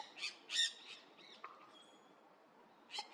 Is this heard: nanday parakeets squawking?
yes